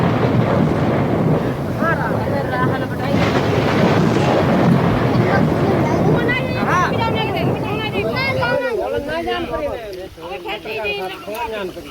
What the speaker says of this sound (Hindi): भयंकर आंधी